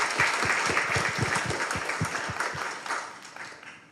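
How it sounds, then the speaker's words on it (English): Applause fills an event room as an audience responds to a presentation on innovation. Close, distinct claps start strong and fade over a few seconds, with no one speaking. "let's do a round of applause"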